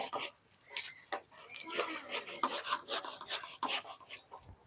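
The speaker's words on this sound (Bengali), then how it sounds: "আমি এখানে আলু কোচানোর মেশিন দিয়ে তালের পাল্পটা বের করে নিচ্ছি" A potato masher pressing the pulp out of a large ripe palm fruit makes soft, wet squelching and rubbing strokes in close, uneven bursts, fairly quiet throughout.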